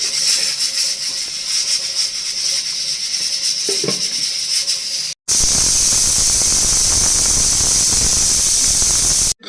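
A pressure cooker whistles loudly while moong dal pongal cooks, a sustained high hissing shriek of escaping steam that cuts out briefly and then returns even stronger and continuous.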